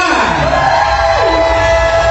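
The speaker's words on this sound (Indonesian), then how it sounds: "Tepuk tangannya untuk para saudaranya Salsabila." A crowd cheers and shouts loudly in a continuous, dense roar, with whoops and yells blending over a tonal, sweeping backdrop throughout.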